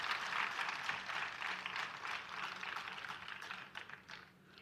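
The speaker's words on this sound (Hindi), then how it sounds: "एक बार फिर से जोरदार तालियां हो जाए संजना के लिए।" Audience applause for Sanjana at the ASMITA 2.0 event, a steady wash of clapping from a large crowd that holds even and then thins toward the end, fairly quiet and without voices.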